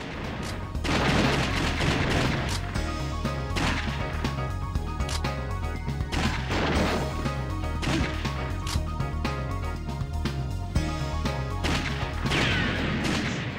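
Rapid gunfire and a loud exploding barrel from the Virtua Cop 2 arcade shooter on PS2, with dense bursts of shots and crashing impacts over continuous game music, loud and sustained.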